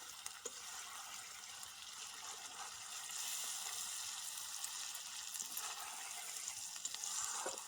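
Small fish frying gently in oil over low heat in a pan, a soft continuous sizzle with faint crackles throughout, quiet and close with no talking.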